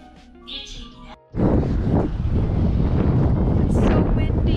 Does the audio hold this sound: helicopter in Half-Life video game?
no